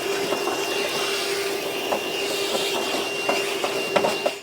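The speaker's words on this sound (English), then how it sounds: "Now I'm just going to vacuum up the mess." Vacuum cleaning up metal shavings during a trailer hitch installation on a 2015 Chevrolet. A steady, close motor drone with a constant tone runs throughout, and small clicks and rattles of debris are sucked in.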